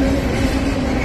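DAYGO freight train hauled by a GP60M-3 locomotive, with an NS rebuilt unit as DPU, passing through Encinitas: a short burst of steady rumbling rail noise and engine drone, close and continuous.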